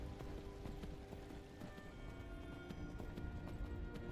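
Horse hooves clip-clop in a steady running rhythm in the video game Skyrim, fairly close and continuous, mixed with game ambience and a rain-like wash.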